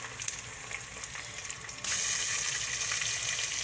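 Onions fry in oil as garlic ginger paste is added for an arvi gosht dish, a steady sizzle that jumps abruptly into a louder, hissing crackle partway through and holds there.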